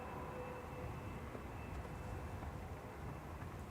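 A jet airliner rolls down the full length of the runway at Manchester Airport, a steady, broad engine roar heard from a distance and holding at a constant level throughout, with no voices.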